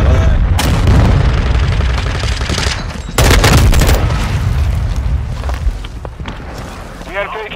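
Gunfire in the PC shooter Modern Warfare 2, with dense, loud bursts of automatic weapon fire and booming blasts that run almost continuously, with a heavier burst midway and a player's voice faintly mixed in.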